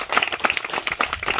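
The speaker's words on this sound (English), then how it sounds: "Somebody clap for him" Schoolchildren clap for a fellow pupil, a short burst of scattered, uneven hand claps, moderately close and not very loud.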